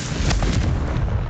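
A Confringo explosion spell in the video game Hogwarts Legacy lands as a loud, booming burst with heavy low rumble and a crackling blast that fill the whole short moment.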